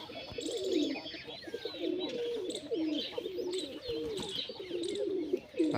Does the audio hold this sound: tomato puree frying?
no